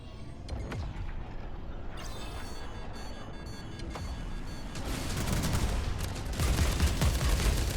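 Spaceship weapons in the game Jump Space fire rapid bursts of guns and missiles, dense crackling volleys that build louder and heavier toward the end, with no talking.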